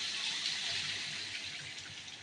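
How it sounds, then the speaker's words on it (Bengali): Water is poured into a pot of beef curry to make the gravy, giving a steady, fairly faint hiss of pouring liquid that tapers off slightly, with no talking. "আর এদিকে মাংসের ঝোল দিয়ে দিয়েছি, আর এখন ঢেকে দেবো।"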